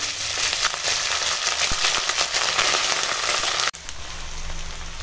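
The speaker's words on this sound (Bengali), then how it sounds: "এখানে আছে তেজপাতা, কাজু, কিশমিশ দিয়ে দিলাম, দিয়ে একটু তেলের উপর এগুলো নেড়ে নেব" Bay leaves, cashews and raisins stirred in hot oil and ghee give a steady, close sizzle and crackle for several seconds, broken by a brief drop before the frying hiss resumes.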